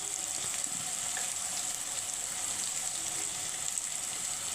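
Chili powder and turmeric sautéing in a pan for a Bengali egg curry with cauliflower: a continuous bright hissing sizzle, close and steady, with faint occasional stirring and no speech.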